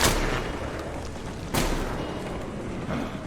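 A grenade blast and gunfire in Metro Exodus come as three loud, broad bursts, one at the start, one midway and a smaller one near the end, each fading into a rough, noisy rumble, with no speech.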